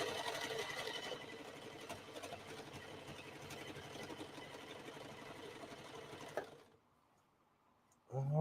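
A sewing machine reinforces the seams on a cape hood with a continuous, moderately quiet motor hum and needle chatter that runs for several seconds, then stops, leaving near silence before a brief noise at the end.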